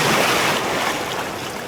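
A sea wave splashes over a swimmer in shallow salt water in Albania, making a brief, close rush of water that fades slightly over less than two seconds.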